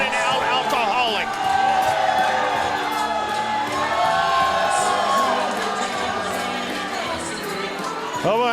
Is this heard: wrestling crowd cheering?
yes